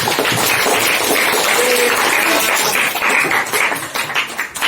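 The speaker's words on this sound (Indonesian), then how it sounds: "Terima kasih, tepuk tangan." Classroom applause as students clap hands at the close of a lesson on social interaction, a steady dense patter of many hands lasting several seconds, fairly close and loud, thinning slightly near the end.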